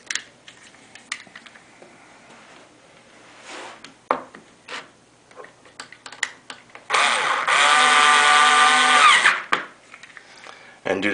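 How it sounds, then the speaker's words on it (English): A number 6 colored-head screw being reinstalled into a window sash guide: scattered ticks and scrapes, then a loud, steady whirring drive lasting about two and a half seconds, with a voice speaking nearby. "So we'll reinstall this screw."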